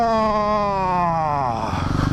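A 2010 Husqvarna 510 SMR supermoto engine while riding, a close, steady, buzzy single-cylinder tone that drops in pitch as the bike decelerates, ending in choppy uneven pulses on the throttle.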